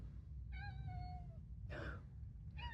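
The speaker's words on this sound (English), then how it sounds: "I can hear a distant meow." A cat meows from a distance in a Victorian house under renovation, two drawn-out meows separated by a short pause, faint over a steady low background hum.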